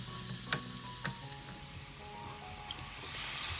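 Onions frying in a pan for seafood paella while being stirred: a steady, quiet sizzle close by, with a few light scrapes and taps of the spoon, no voices.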